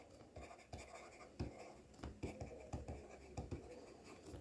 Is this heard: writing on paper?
yes